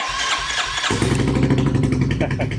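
A Royal Enfield motorcycle starts up and its aftermarket exhaust pipe settles into a loud, deep, throbbing rumble close by.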